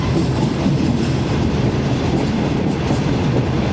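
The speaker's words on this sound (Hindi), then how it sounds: "यहाँ पे स्लो हुई थी ट्रेन" A passenger express train rolls through a railway station on a Lahore to Karachi run, heard from inside the car as a loud, continuous rumble and clatter of wheels on rails with no talk.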